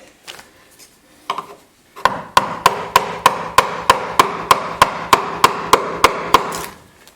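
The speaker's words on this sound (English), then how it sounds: "so I went and officially got my mallet" A wooden mallet fashioned from a piece of firewood strikes hard and close in a metal shop, about eighteen evenly spaced blows in a steady, quick rhythm after a few scattered knocks.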